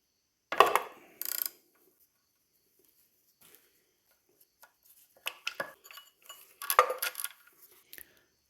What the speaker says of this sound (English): I am now going to remove the nut for the oil pump sprocket. It is a 16mm size and it is not reverse thread.